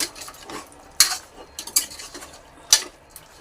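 Tomatoes stirred into curry in a pan, with a metal spoon clinking and scraping against the pan in a few sharp clicks amid soft stirring.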